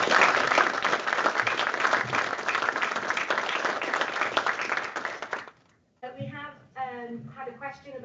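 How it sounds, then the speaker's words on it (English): Conference audience applause, a dense steady round of clapping lasting over five seconds before cutting to silence, then a single voice speaking alone. "If we have a round of applause for Nina"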